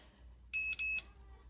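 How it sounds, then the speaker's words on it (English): Cordless electric pruning shears give a locking beep as the blades lock in place: two short, high, steady electronic tones in quick succession, close and clear over a quiet background. "you're going to hear that final beep. That means it's locked the blades in place."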